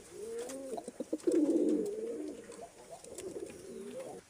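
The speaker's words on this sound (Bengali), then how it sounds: "লাল বোম্বাই এবং এই হলুদ বোম্বাই জোড়াটি জোড়া দিয়েছি" A mated pair of Bombay pigeons, one red and one yellow, coo softly nearby in a loft, a few short clipped notes swelling into a longer rolling coo, with more soft cooing following.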